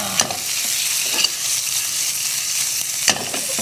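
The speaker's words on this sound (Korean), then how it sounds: "여기에 저는 소세지를 먼저 넣고 한번 볶을 거예요" Sausage stir-fries in a pan over high heat: a continuous hiss of sizzling with sharp scraping stir strokes at irregular intervals, close and fairly loud with no talk.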